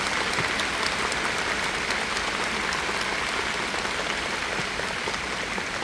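An audience claps in sustained, dense applause that fills the whole stretch evenly at a steady level, with no voices standing out.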